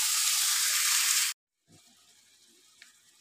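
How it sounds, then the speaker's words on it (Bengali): Vegetables for a fish-head vegetable dal fry in a pan. A bright, close sizzle stops abruptly, and a quieter sizzle resumes after a short gap. "এই সবজিটা তো আমার একটু ভাজা ভাজা হয়ে গেছে"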